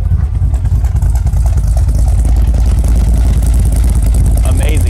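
A 1981 Corvette ZL1 anniversary edition with a 427ci V8 idles, heard from behind at the rear, a loud, steady, deep engine rumble with a lumpy pulse that holds throughout without revving.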